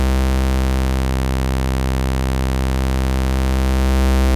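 A sustained, buzzy synth tone from NI Massive's pulse saw sync wavetable oscillator drones steadily at constant loudness, rich and harmonically dense with a static pitch, alone and unbroken.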